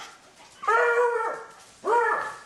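Dogs react to someone at the door with two loud, drawn-out, howling barks, each lasting more than half a second, heard close in a quiet indoor room.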